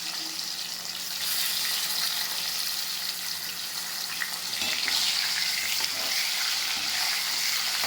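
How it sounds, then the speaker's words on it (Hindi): Potatoes frying in a pan with cumin, a steady close sizzle that swells a little louder midway, with faint stirring scrapes and no talking. "पहले आलू फ्राई कर लेते हैं, थोड़ा सही रहेगा।"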